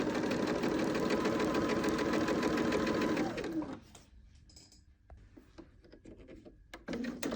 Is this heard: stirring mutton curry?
no